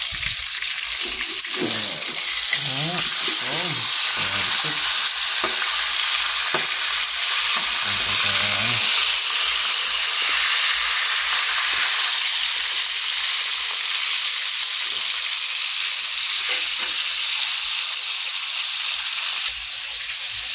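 Tilapia frying in a pan at home, with a loud continuous sizzle close by and occasional stirring and scraping sounds in the first half, no talk.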